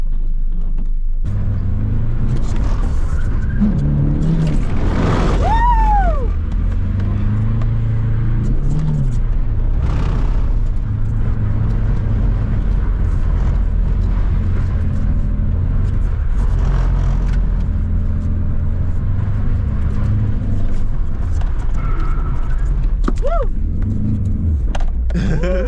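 A drift car's engine roars and rumbles loudly and steadily, with surges of revving and a squealing, tire-like whine around the middle and near the end, while people talk over it.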